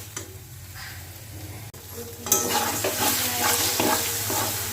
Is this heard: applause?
no